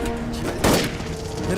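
Gunfire crackles in a Hindi action war film, a sharp booming burst of shots over a rumbling soundtrack and shouting voices.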